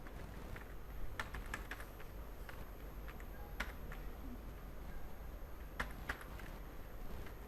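Faint, scattered clicks of fingers typing Hindi on a computer keyboard, irregular taps with short pauses over a quiet hiss.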